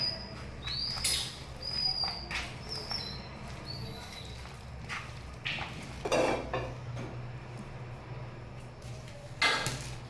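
Shrimp pitha ingredients are mixed by hand in a bowl, heard as soft squishing with scattered light clinks and knocks against the dish. Birds chirp intermittently in the background, and someone talks at times.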